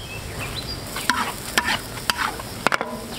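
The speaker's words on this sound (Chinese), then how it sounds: "六层油温，下入葱姜炒香" Scallion leaves and ginger stir-fried in hot oil for scallion oil chicken: a steady sizzle, broken by sharp metallic clanks of a spatula on the wok every half second or so, up close with no talk.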